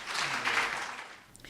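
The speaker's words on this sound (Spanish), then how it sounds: "Un aplauso." Audience applause for a speaker at a talk on mediumship, art and spiritism, a brief burst of many hands clapping that fades out.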